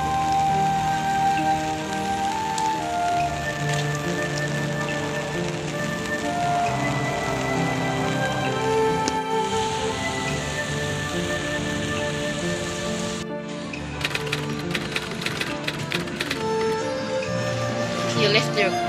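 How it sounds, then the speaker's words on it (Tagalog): Rain pours steadily on surfaces at night outside a bar at Okada in the Philippines, a continuous close hiss with spattering drops, mixed with music and people talking throughout. "Madilim na dito at umuulan pa."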